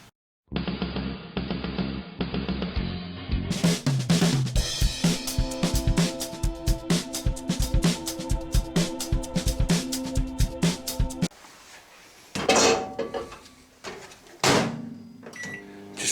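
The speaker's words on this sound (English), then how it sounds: "Just warming something up in the microwave." Microwave oven humming steadily while warming food, with beeps and clicks near the start, then a door clunk and cupboard-like knocks toward the end.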